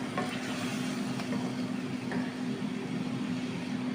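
Chicken mulkiya fries in a pan with a steady, close hissing sizzle under a faint low hum, continuous and even throughout.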